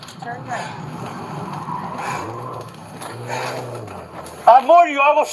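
Car tires skid and squeal while driving, a long scraping screech under frantic shouting voices, rising into sharper squeals near the end.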